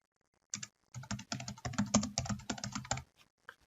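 Close, crisp keystrokes tap on a computer keyboard while entering values in SolidCAM machining software, a quick irregular run of clicks for about three seconds with no talking.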